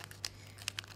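Origami paper being folded and creased by hand under a timed challenge, a few quick crisp crinkles and rustles in separate bursts over a low steady hum, close and quiet with no speech.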